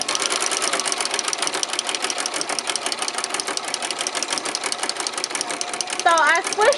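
A home sewing machine with a pleating foot runs steadily as it stitches pleats, making a fast, even mechanical chatter that is close and loud, with a brief tonal whine near the end.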